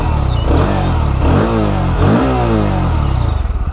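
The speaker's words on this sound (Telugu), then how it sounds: "మీరు ఎగ్జాస్ట్ నోట్ వినండి ఒకసారి" Bajaj Pulsar NS 160 BS6 motorcycle from 2021, idling and then revved twice. The exhaust note rises and falls in two clear pulls, loud and close, with no talk over it.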